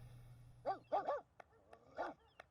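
A dog in The Sims video game barks and yips in a few short bursts, followed by faint clicks, over a low background hum.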